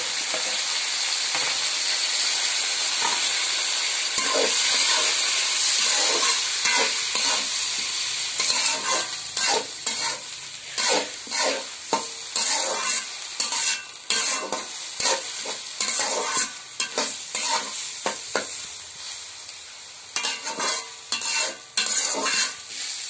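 Washed rice frying and being stirred in a pan, a loud continuous sizzle broken by rapid, repeated scraping strokes of a spatula that grow busier and more rhythmic toward the end.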